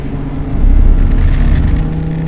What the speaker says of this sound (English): it's the sound of that engine that just gets your juices flowing.